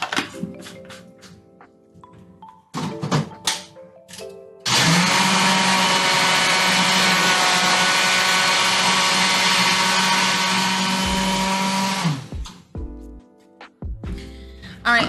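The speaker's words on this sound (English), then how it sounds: "Let me go put this in my blender for a second." Kitchen blender blending garlic, a loud continuous whirring motor running about seven seconds after scattered clatter of setup, then cutting off into clinks and handling noises.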